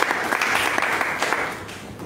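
A church congregation claps and applauds in praise of Jesus Christ, a dense, steady burst of many hands at fairly close range with no voices on top.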